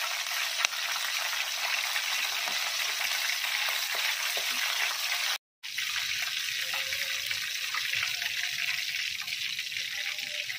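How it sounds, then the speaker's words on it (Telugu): Green chillies frying in hot oil give a steady, close sizzle with faint scattered stirring clicks, broken by a brief silent gap halfway through. "ఇందులో పచ్చిమిరపకాయలు కూడా వేయించి తీసుకోవాలండి."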